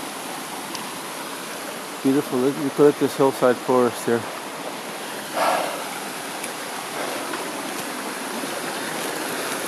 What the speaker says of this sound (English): Look at that creek.